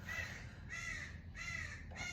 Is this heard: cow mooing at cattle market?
no